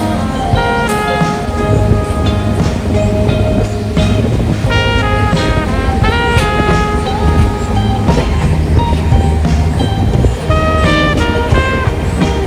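A passenger train running from Delhi to Haridwar makes a steady, loud rumble with rhythmic wheel clatter, accompanied by tonal squeals and hums, continuous throughout.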